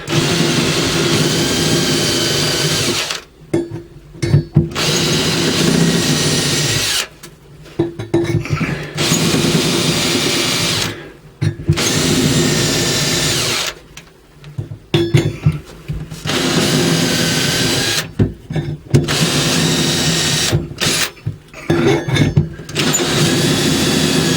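A power drill bores a series of marking holes partway through for a brace, running in long loud bursts separated by short pauses, with no talk.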